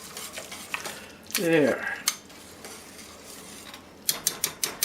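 Quick scraping and clinking of a spoon stirring beef and venison stew gravy in a pot, with a bubbling, sizzling swirl in the middle and a few sharp taps at the end; a voice briefly speaks.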